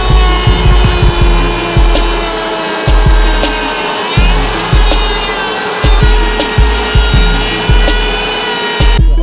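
A power tool cuts and trims a carbon fiber dash panel for a Can-Am X3 in loud, close, repeated rasping bursts, each strongly pulsing, with a steady whine underneath and brief pauses between passes.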